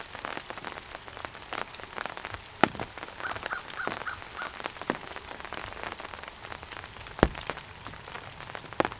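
Rain patters steadily on surfaces outdoors in Kansas, a dense close hiss broken by sharper individual drips and taps, with a faint bird call briefly in the background.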